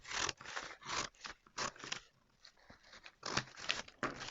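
Scissors snipping along the line of a paper dart pattern for garment design, a series of crisp close cuts and scrapes with short pauses between strokes.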